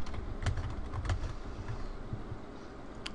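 Computer keyboard keys tapped in short irregular bursts while a blog title is entered, close and fairly soft, with no voices.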